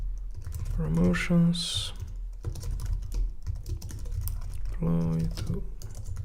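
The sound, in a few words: typing on a computer keyboard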